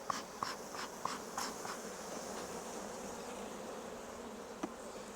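Honey bees swarm around an opened hive: a steady, close buzzing drone with scattered louder passes of individual bees flying near, and no talking.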